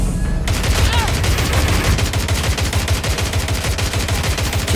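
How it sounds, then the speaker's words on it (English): Dense gunfire rages in the Watch Dogs Legion video game, a fast, continuous rattle of shots and bullet impacts, loud and close from start to finish. "Just ignore the bullets."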